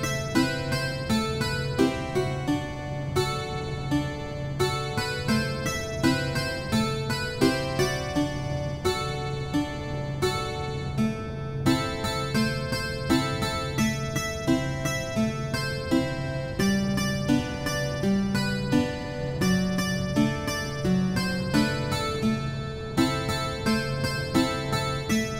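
A song plays as custom in-game music in Starbound, a steady stream of plucked, instrument-like notes in a looping melody, even in volume and uninterrupted for the whole stretch.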